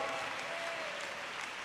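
Church congregation applause for the Lord, a thick, sustained roar of many hands clapping at even volume, with a faint tone threading through briefly.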